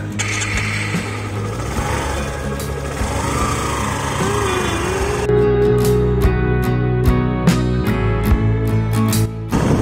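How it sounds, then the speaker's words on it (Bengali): A motorbike starts up and pulls away on a road into Joypur Forest, giving a loud, steady engine drone that changes pitch as it gets moving, with wind rushing and rattling against the rider. "তো চলো বাইক স্টার্ট করা যাক"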